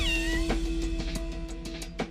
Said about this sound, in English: Spend time with the kitties.